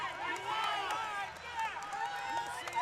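A crowd in the Pyramid arena erupts at match point of an NCAA men's volleyball regional final, cheering and shouting at a distance under a close commentator's voice throughout.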